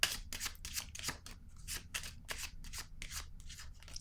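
Tarot cards being riffle-shuffled and handled, a rapid run of crisp papery flicks and slaps in quick succession, close up with no voice.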